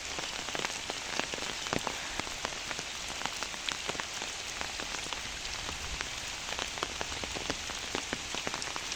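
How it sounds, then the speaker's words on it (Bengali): Steady rain falls on a goat farm during a stormy day, a dense continuous patter of drops on surfaces with no voices. "এখন পর্যন্ত এগারোটা বাজে যে আবার বৃষ্টি শুরু হইতেছে চলবে সারাদিন"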